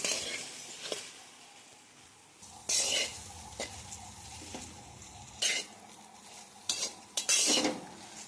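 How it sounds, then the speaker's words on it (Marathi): Okra dry-frying in a pan on a gas stove without oil, with a utensil stirring and scraping against the pan in close, irregular bursts over a faint sizzle. "आता आपण गॅसवर कमीत कमी पाच मिनटं भेंडी फ्राय करून घेऊ बेगर म्हणजे तेल न टाकता"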